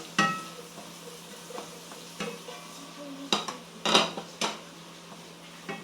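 Garlic and onion fry in a pan for a carbonara, a faint steady sizzle broken by several sharp clinks and scrapes of a utensil stirring against the pan, with no talking.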